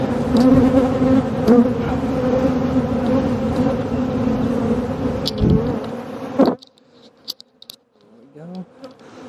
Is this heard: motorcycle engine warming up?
no